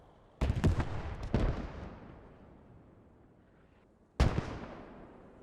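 Mortar rounds land in Post Scriptum, a World War II shooter, laying down a smoke barrage near industrial buildings by the docks: two close sharp blasts with a long rumbling decay, then a third impact after a pause.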